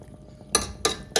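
A lid set onto a pot on the stove while cooking a high-protein comfort dish gives three quick, bright metallic clinks in rapid succession, close and fairly crisp.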